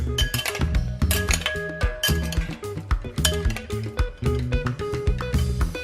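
Tomatoes, cucumber, corn and dried chili flakes for a spicy Thai corn salad are tossed in a mixing bowl, with quick, dense clinks and knocks of utensils against the bowl continuing steadily throughout, with no talking.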